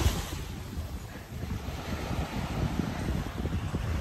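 Sea waves wash onto a private resort beach on Koh Samui under overcast skies, a continuous broad surf rush mixed with gusty wind buffeting the microphone, fairly loud and steady with no voices.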